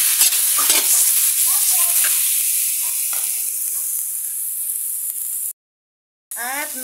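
Chicken fries in margarine in a pan, a loud, close sizzling hiss with stirring scrapes and clatter, the sizzle easing slightly before a short silent gap and a return.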